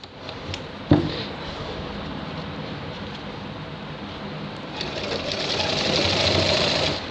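A sewing machine stitches a shirt with a steady, continuous whir, after an early sharp knock, and grows slightly louder near the end.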